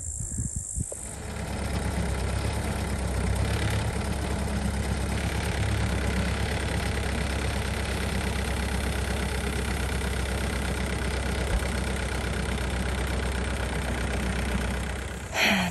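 A tractor engine runs at a steady idle in an open hayfield, a constant close mechanical drone with a low rumble that holds unbroken throughout, with a faint insect-like hiss on top.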